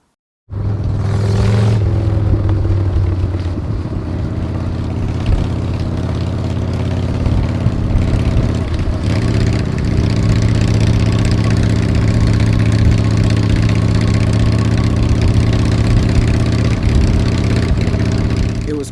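A custom-built Harley-Davidson motorcycle engine runs steadily for the whole stretch, close and loud with a deep, even low rumble and only slight swells in pitch.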